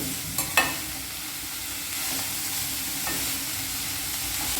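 Honagonne greens hitting hot oil with fried onion in a pan, a couple of sharp clatters at the start followed by a steady, soft, close sizzle with occasional stirring.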